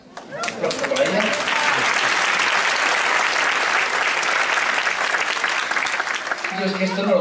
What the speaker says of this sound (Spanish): ¡Aplausos para ellas!